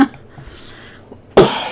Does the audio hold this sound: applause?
no